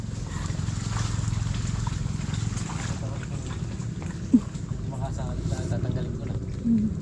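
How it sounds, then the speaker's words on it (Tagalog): Choppy water rushes and splashes steadily around a small fishing boat, with a dull wind rumble and a sharp knock partway through. "malakas ang alon"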